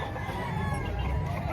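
Golden Boy bloodline roosters at a busy chicken market, clucking and fowl calls mixed into a loud, dense crowd din with people talking throughout.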